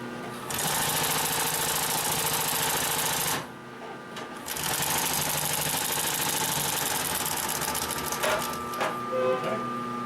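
A Consew 744R-30 industrial sewing machine stitches through thick layered leather with a loud, rapid mechanical chatter. It runs in two bursts separated by a brief pause near the middle.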